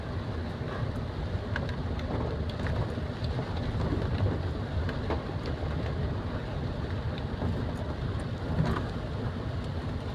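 Heavy rain pours down steadily during a storm near a seawall, a loud, dense hiss that never lets up, with a few scattered sharper splashes and no voices.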